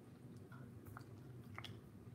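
Close, quiet chewing of crunchy broccoli, with a few crisp bites and moist crunches over a soft room hiss.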